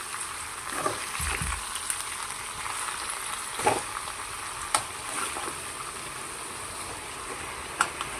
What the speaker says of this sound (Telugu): ఆకుకూర మొత్తం అందులో వేసేసుకొని మనం గరిటెత్తుతో కొంచెం అటు ఇటు ఆయిల్లో కలిసేటట్టు తిప్పుకోవాలి